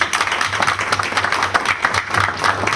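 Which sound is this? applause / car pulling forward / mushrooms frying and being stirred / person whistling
applause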